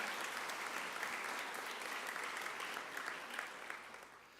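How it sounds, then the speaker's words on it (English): Audience applause fills the room at a national finals opening ceremony, steady dense clapping from many hands that holds even and then begins to taper off toward the end. "Give yourselves a clap."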